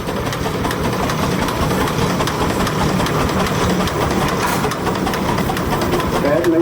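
Vintage tractor engine pulling a load at a tractor pull, a steady low mechanical rumble with a rapid chugging pulse, heard at a distance under crowd noise and an announcer talking.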